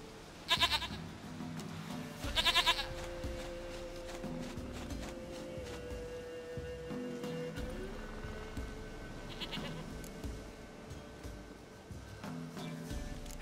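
Goat bleating in The Witcher 3 video game, several short bleats spaced apart over steady game ambience and music, fairly close and clear.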